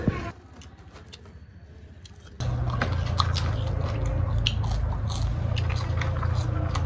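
Crunchy chewing of fried bean worm larvae, close and loud, with crisp bites and steady mastication that starts abruptly after a quiet moment and continues, a faint voice now and then.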